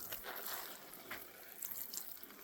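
Water poured from a sprinkler onto garden soil around dill and celery plants, a steady close splashing and trickling hiss with small surges, no voices.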